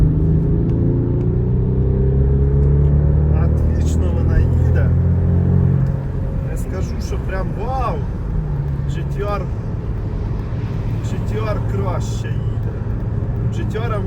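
A 2005 Bentley Continental GT with a W12 engine drives and accelerates, its deep engine rumble swelling strongly early on and then settling lower, heard from inside the cabin with people talking over it.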